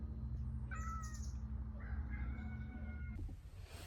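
A cat meows faintly a few times over a low steady hum, with a rooster-like crow in the background.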